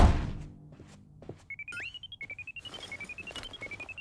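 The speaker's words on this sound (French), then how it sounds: "Arrête cette sonnerie infernale!" Shrill electronic alarm ringing in a Polly Pocket cartoon, a rapid pulsing high-pitched beep that starts after a thud and repeats in a fast, even rhythm until the end.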